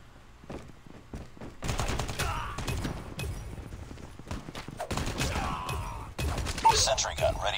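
Pump-action shotgun and other gunfire in Call of Duty Mobile multiplayer, sounding as loud repeated blasts and rapid volleys over game effects.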